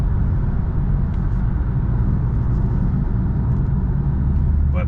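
Steady in-car drone of a vehicle cruising at light throttle in traffic, with a constant low rumble and a faint thin whistle riding over it, continuous and loud throughout.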